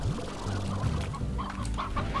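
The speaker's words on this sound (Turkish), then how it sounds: "Çok delişik bir tavuk buldum burada." Chicken clucking in the video game Slime Rancher, a run of soft, repeated clucks and low throaty calls over a steady game background, close and continuous, with no talking.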